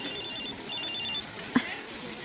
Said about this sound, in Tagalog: Si Kuya Hinaro tumatawag sa cellphone ko.